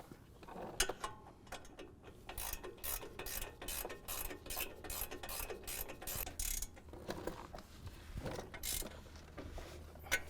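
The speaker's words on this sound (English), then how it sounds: "We'll get a torque wrench on that." A torque wrench tightens the 18 mm strut nuts on a 2024 Ford F-150 with a quick series of sharp ratcheting clicks, close and fairly quiet, with a few pauses between bursts.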